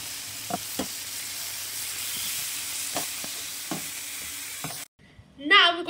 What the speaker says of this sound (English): On a low flame, stirring around until you get a little bit of a burnt colour,